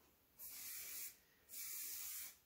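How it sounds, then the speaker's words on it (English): Curl finishing spray misted onto damp hair in two separate bursts of fine pressurized hissing, each lasting about half a second to a second, close and fairly quiet with a brief gap between them. "I'll mist the finishing spray in and I'll finalize that curl."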